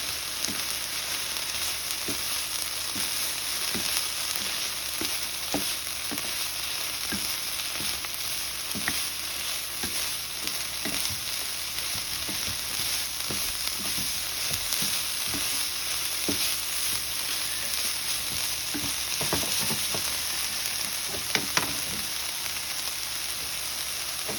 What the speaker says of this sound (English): After we've let it cook for 1 minute, we are stirring in the meat and the vegetables